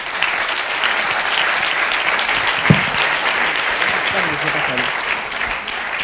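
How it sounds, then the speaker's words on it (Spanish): Audience at a business design conference applauding people stepping up on stage, a loud, dense, sustained burst of clapping with a few voices and a brief thump partway through. "Un aplauso para los que suben."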